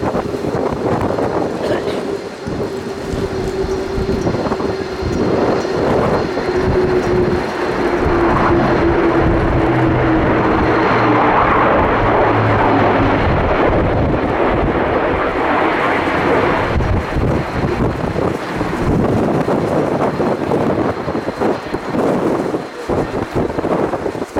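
An Airbus A400M military transport flies past at an air show, a loud, broad roar of turboprop engines swelling and sustained with heavy wind buffeting, then fading, as crowd noise and commentary carry on beneath.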